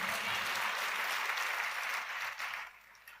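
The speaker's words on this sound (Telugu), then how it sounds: "ఏమన్నా అర్థమై చప్పట్లు కొడుతున్నారా, లేకపోతే నా ఆనందం కోసం కొడుతున్నారా?" A congregation claps during a Christian sermon. The applause is broad and continuous, then thins and fades out in the last second.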